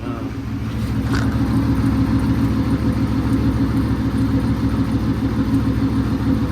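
A cammed 5.7 V8 in a Dodge Charger idles with a loping, rumbling exhaust note and a slight exhaust leak, running steady and close for several seconds with no talk over it.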